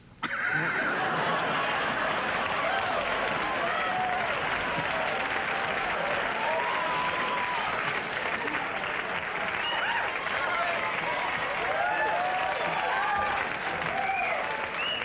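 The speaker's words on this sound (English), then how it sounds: "That applause break is about as long as you'll see on TV" Loud, sustained applause from a comedy show audience in a live TV appearance by Richard Pryor, a dense, steady roar of clapping filling the whole stretch after a brief opening.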